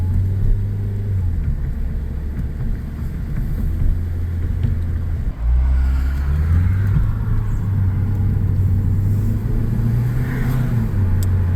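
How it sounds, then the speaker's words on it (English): A Ford Focus pulls away from a dead stop at about half throttle, its engine a loud, steady low rumble that climbs smoothly, with a brief dip midway before the drone settles again. "I gave that about almost half throttle. No slip, no jerky motion."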